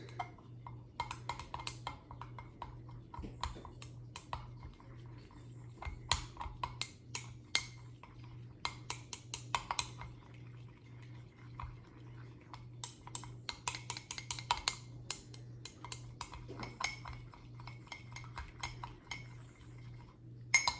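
Vegetable oil and toner ink being stirred together for a magnetic fluid, with repeated light clinks and scrapes of a utensil against a container over a steady low hum, no talking.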